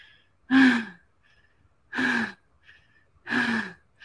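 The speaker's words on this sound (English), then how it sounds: "gasping for breath." Three loud, harsh gasps for breath spaced about a second and a half apart, each a short ragged inhale-exhale with quiet pauses between.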